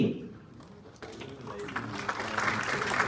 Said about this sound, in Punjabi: ਜ਼ੋਰਦਾਰ ਤਾੜੀਆਂ ਹੋ ਜਾਣ